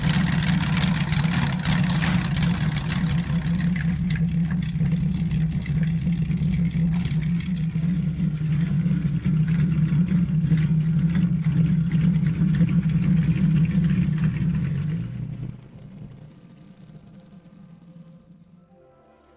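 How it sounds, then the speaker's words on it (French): Lamborghini V12 engine fitted in a custom two-wheeled motorcycle, running steadily with a deep, loud low rumble for about fifteen seconds before the sound drops away to a quieter tail. "L'une de ses créations majeures fut une moto à 2 roues avec un moteur V12"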